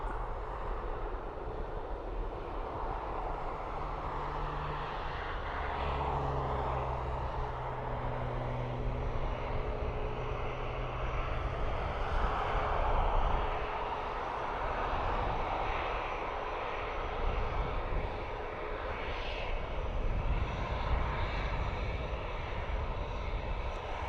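A TAP airliner takes off from Dublin Airport bound for Lisbon, its jet engines giving a broad, steady roar that stays loud and fairly even throughout, heard from a distance across the airfield with no voices.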